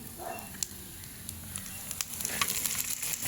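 Goat intestine fries in a pan with a soft, steady sizzle and scattered crackles and pops, fairly faint and close, with small stirring clatters and no talk.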